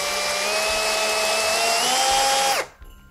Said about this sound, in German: bohre jetzt von oben sachte damit rein